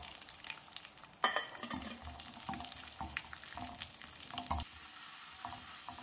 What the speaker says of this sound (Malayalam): നട്ട്സും കിസ്മിസും മൂത്തിട്ടുണ്ട്.